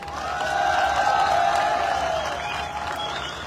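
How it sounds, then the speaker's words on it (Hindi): An audience claps at a corporate CEO speech event in Punjab. The dense applause rises and lingers for a few seconds beneath a steady tonal hum, with faint crowd noise mixed in. "इसके लिए आप लोगों को तालियां बजानी चाहिए"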